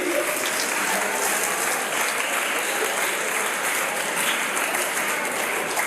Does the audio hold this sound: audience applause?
yes